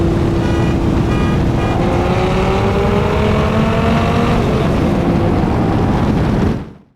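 An 8-liter V10 Dodge Viper with upgraded exhaust pulls hard in second gear during a roll race, its loud, close engine note climbing steadily for several seconds before cutting away abruptly.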